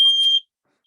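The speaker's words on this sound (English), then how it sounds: "See, now you pissed off the smoke detector." A smoke detector at home lets out one short, piercing electronic beep, loud and close, which cuts off into silence.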